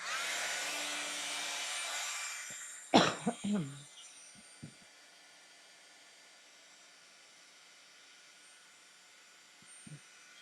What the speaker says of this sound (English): now I'm going to make some noise and heat emboss this